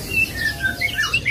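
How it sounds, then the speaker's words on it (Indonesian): Caged songbirds at a bird kiosk chirp and tweet in quick, bright calls close by, with no talk over them. "ini burung langsung pada gacor nih Pak"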